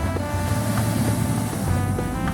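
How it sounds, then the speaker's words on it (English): Ocean surf rolling in and breaking on a shoreline at sunset, a steady broadband wash of waves with low rumble and wind buffeting the microphone, close and continuous without speech. "Look at the waves rolling in here."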